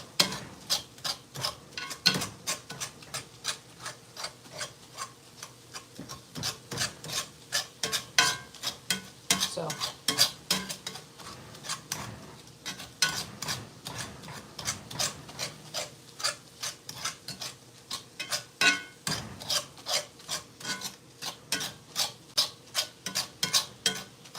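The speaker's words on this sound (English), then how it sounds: "Cut it up, stir it." Taco meat being chopped and stirred in a pan with a utensil, a steady run of rhythmic scraping and rasping strokes, close and fairly loud, continuing without pause.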